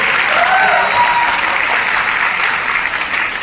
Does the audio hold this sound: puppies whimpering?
no